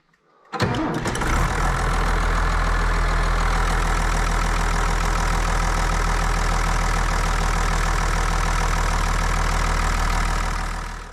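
A John Deere 3650 tractor engine cranks and fires, then settles into a steady, loud, close diesel idle with a deep low rumble that holds for about ten seconds before easing off.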